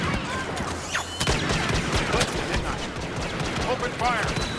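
Blasters firing rapidly in Star Wars Battlefront, dense overlapping shots and bursts throughout a busy battle, with voices talking over the gunfire.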